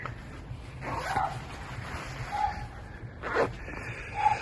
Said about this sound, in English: Wish that dog had shut up.